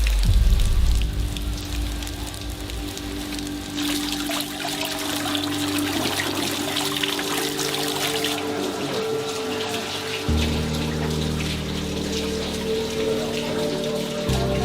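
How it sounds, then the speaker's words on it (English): Steady rain falls outside a high school during an all-day downpour, a continuous close patter and splash with a low hum underneath and no speech. "It's been raining all day, non-stop."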